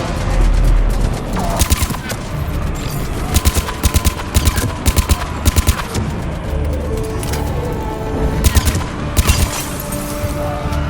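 Bursts of gunfire in the Mass Effect 3 Legendary Edition video game on the Palaven priority mission, with repeated sharp rapid shots in clustered volleys over a constant battle rumble, and some talking mixed in.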